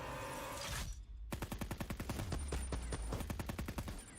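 Rapid automatic gunfire from the SWAT RFT rifle in a Call of Duty game, a loud burst of evenly spaced shots that keeps going for about three seconds after a brief noisy lead-in.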